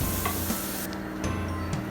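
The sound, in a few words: roasting whole spices and rice in ghee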